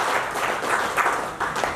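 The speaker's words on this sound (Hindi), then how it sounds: "जोरदार तालियों के साथ" An audience applauds at a speech event, a short burst of steady clapping from a crowd, moderately loud and slightly distant, with no talk over it.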